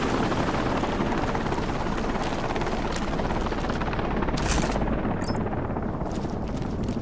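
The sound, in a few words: helicopter taking off in Sniper: Ghost Warrior Contracts 2 video game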